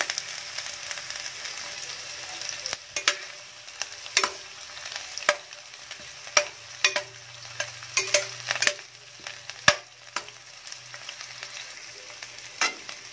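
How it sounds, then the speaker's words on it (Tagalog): Onion, garlic and ginger sautéing in a pan, a soft, steady sizzle broken by repeated sharp scrapes and clacks of a utensil at uneven intervals, close by, with no talking. "So, ngayon, pwede natin isabay na yung ating sibuyas. Lutuin lang natin. I-brown lang din natin."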